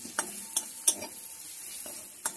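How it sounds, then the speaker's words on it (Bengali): Onions frying in a pan while cooking stalks of elephant foot yam, with a steady faint sizzle broken by several sharp scraping stirs of a spatula, close by and with no talking. "পেঁয়াজটা এখনো লাল হয়নি, আর একটু লাল লাল করে ভেজে নিতে হবে।"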